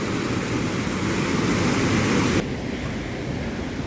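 Roaring riverside water rushing near a house foundation, a loud continuous broadband roar that drops to a slightly softer level partway through, with no talk.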